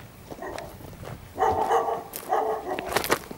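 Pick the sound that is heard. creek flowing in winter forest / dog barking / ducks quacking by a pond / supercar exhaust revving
dog barking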